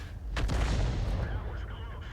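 An M53/M55 artillery gun in a tank video game fires a single heavy shell, a deep loud boom with a rumbling tail that lingers and fades.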